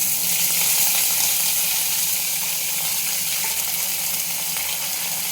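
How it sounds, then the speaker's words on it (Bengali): Okra dropped into hot oil in a kadai makes a loud, dense, steady hiss of frying that holds evenly throughout, with no voices over it. "এই তেলের মধ্যে আমি আগে আমার এই ভেন্ডিগুলো ভেজে নেব"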